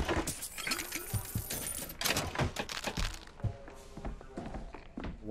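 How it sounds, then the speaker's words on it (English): Melee bashes land in the first-person shooter BioShock Infinite, a string of dull thunks and thuds with clattering, irregular and close, over game ambience. "What if I bash her right in the back of the head?"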